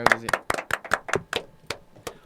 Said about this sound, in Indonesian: Tepuk tangan buat MMTC.